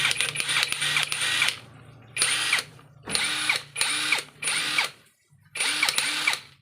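An electric impact wrench fires in six loud bursts of hammering rattle, each one to two seconds long, separated by short pauses, with a steady motor hum running beneath.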